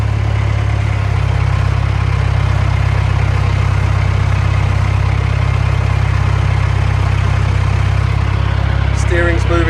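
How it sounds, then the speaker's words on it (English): An International 574 tractor engine idles steadily nearby with a deep, even diesel drone, and a short burst of clatter comes near the end. "We've started the tractor up"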